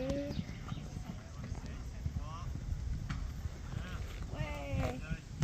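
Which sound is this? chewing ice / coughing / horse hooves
horse hooves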